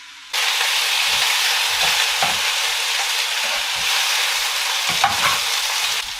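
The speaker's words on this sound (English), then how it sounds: "you usually fry them for like 3 to 4 minutes on strong heat" Cucumber frying in a pan over strong heat, a loud steady sizzle that starts abruptly and runs unbroken, with occasional stirring scrapes underneath.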